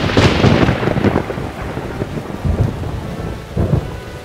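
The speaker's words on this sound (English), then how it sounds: "It's lucky I'm not scared of thunder." Thunder in a cartoon storm rumbles in several heavy rolling bursts over steady rain, fairly loud and close, with no voices.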